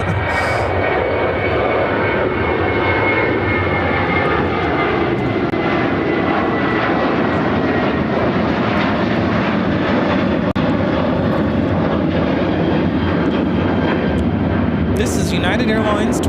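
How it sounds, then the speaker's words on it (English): A United Airlines Boeing 737-700 jet takes off from Chicago O'Hare for Washington Reagan National, its engines roaring loud and sustained at close range, with voices talking over the thrust. "2659 taking off to Washington Reagan National on the 737-700."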